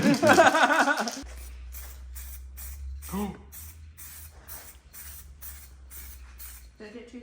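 Spray gun applying light, even paint coats to a damaged McLaren body panel, heard as a series of short regular hissing bursts after an opening stretch of talk, with a low steady hum underneath and a voice briefly breaking in midway.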